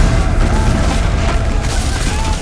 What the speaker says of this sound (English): Cannons and small arms blast the attacking rebels